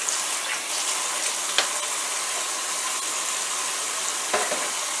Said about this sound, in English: I gotta wash my hand right quick.